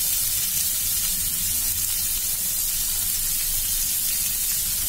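Onions hit hot oil with cumin and garam masala while a prawn malai curry is being made, giving a loud, dense, continuous sizzling hiss that holds steady throughout.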